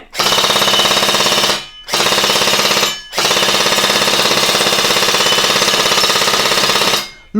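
A Glock pistol fires on full auto: sustained rapid gunfire in three long bursts separated by brief pauses, loud and close, with no voices.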